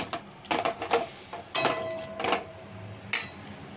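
Spices being stirred with a utensil in a pan for tandoori chicken: a few distinct metallic scrapes and clanks close by, spaced irregularly with short quiet gaps between them.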